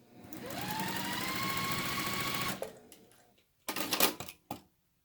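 A sewing machine runs up to a steady whirring speed while stitching a quarter-inch seam on a mug quilt block, then stops, followed by a few short mechanical clatters and bursts of stitching.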